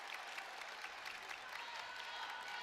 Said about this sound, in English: Arrowhead crowd starting to clap if you can hear it